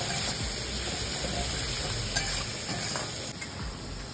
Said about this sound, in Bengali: তো আমি মশলাটাকে একটু কষিয়ে নিয়েছি